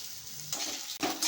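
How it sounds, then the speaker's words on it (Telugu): Ginger garlic paste and tomato frying in a pan, a close sizzle broken by two quick scraping stirs of a spatula over a little more than a second. "అల్లం వెల్లిగడ్డ పేస్ట్ పచ్చివాసన పోయే వరకు వేయించుకుంటున్నాను"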